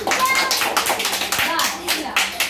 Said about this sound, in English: Chalo, clap for yourself.